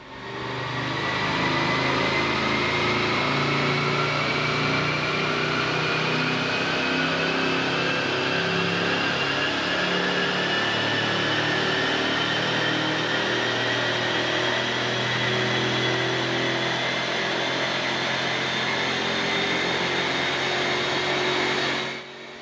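A Jaguar XJR engine revs hard under full throttle, feathered in gently and then building to maximum power, a loud, continuous roar whose pitch rises steadily over about twenty seconds, with rear tyres smoking.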